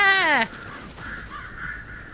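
A single harsh crow caw rings out loud and close in the video game Alan Wake Remastered, followed by faint, low ambient game sound.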